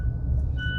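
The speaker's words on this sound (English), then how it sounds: "Never mind the beeping." A vehicle warning beep sounds as a steady high tone over a low rumble of engine and traffic, close by and lasting the full moment.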